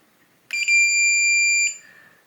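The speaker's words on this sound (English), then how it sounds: "the keypad sound is back" A Kwikset Powerbolt 240 keypad door lock gives a single clear, high electronic beep lasting about a second, near and alone in a quiet room.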